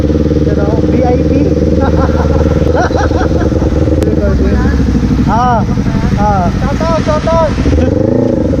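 A Yamaha R3 motorcycle engine runs up close and loud throughout, with a steady mechanical drone and shifting revs while someone talks over it.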